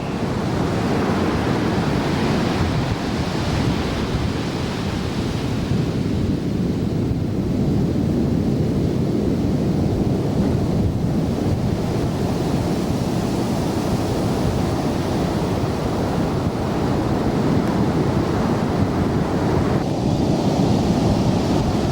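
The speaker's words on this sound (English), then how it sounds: "The waves sweep right in on the beach, sometimes going up pretty high." Ocean waves sweep onto a beach at San Pasqual, Mexico, in the early morning as a steady, broad roar of surf that rises and falls gently without a break. No voices are heard.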